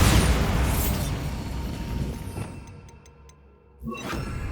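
A Bombarda spell explosion in Hogwarts Legacy opens with a loud booming blast that decays over a few seconds into faint clinking debris, followed by a smaller burst near the end.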